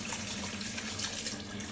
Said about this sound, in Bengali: সরিষা ফুলগুলোকে ধুয়ে তুলে নিচ্ছে।